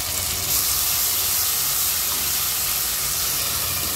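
Tomatoes frying in a pan over a high flame: a loud, continuous broad hissing sizzle with steady steam-like spray, unbroken and close.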